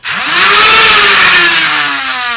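Worker flywheel motors in a Stryfe foam dart blaster, run on a 2S LiPo, spin up with a rising whine and then hold a loud, steady high-pitched scream through the rest of the clip, with no voices.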